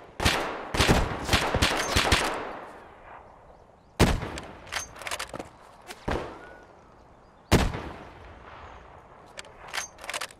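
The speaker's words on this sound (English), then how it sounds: "There was a scav pumping shotgun rounds at me." Shotgun blasts from a scav in Escape From Tarkov, a loud cluster of sharp reports followed by single booming shots spaced a few seconds apart, each with a fading tail.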